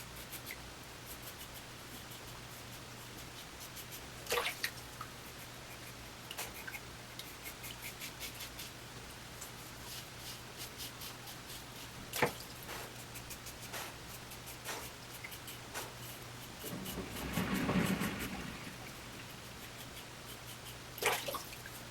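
Parker 66R safety razor scraping across lathered stubble on a cross-grain pass, faint close rasping strokes in short irregular bursts with occasional louder taps and rinses.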